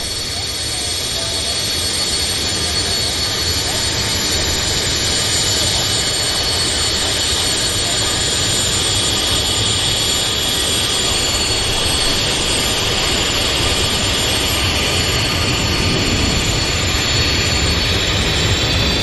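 WestJet jet aircraft at Vancouver Airport, engines giving a loud, steady roar with a high whine layered over deep rumble, continuous and close.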